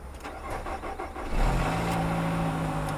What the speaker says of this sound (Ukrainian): надіюсь машина заведеться, тому що на вулиці дуже сильні морози